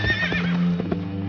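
A horse whinnies loudly and close in a long, wavering neigh that trails off, with a few soft hoof knocks underneath.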